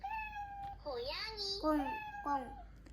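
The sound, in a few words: cat meowing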